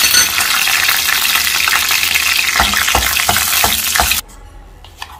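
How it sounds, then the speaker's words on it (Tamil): Fennel seeds, bay leaf, cloves and cardamom tempering in hot oil for chana masala, a loud, steady crackling sizzle close by with a few sharp pops, cutting off abruptly near the end. "இப்போ சோம்பு, பிரியாணி இலை, கிராம்பு, ஒரு ஏலக்காய் இது எல்லாத்தையும் போட்டு தாளிச்சிக்கலாம்."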